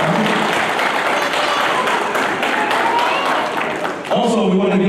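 A loud crowd at a wrestling event in Texas applauds and cheers continuously, with an announcer's amplified voice speaking over the noise.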